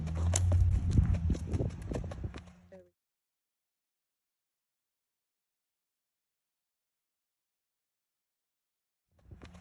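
Hoofbeats of a Tennessee Walking Horse named Corazon moving in a running walk, heard as close, fairly loud rhythmic clip-clop for about three seconds before silence, with a brief return at the very end.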